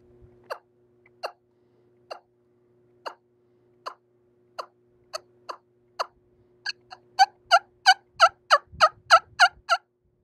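Wingbone turkey call imitating a wild turkey's plain clucks and yelps: sparse single sharp clucks at first, then a faster run of loud, high-pitched yelps toward the end, heard alone and close.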